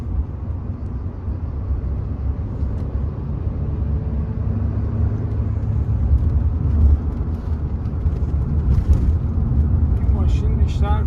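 A Mercedes-Benz C300 Cabriolet drives along a road, giving a steady low engine and tyre rumble with wind noise, while people talk over it near the end.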